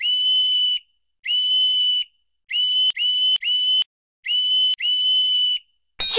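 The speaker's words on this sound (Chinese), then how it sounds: "现在开始吹哨子。" Sharp, steady blasts of a hand whistle, blown as a sequence of separate tones of varying length with short gaps between, loud and close against silence, with a brief clatter at the very end.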